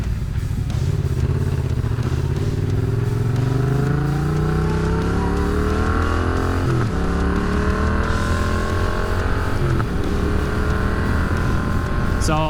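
A 2019 Yamaha MT-07 street motorcycle ridden on the road, its engine note loud and continuous, rising and falling through gear changes with steady wind rush throughout.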